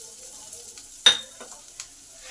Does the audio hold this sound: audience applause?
no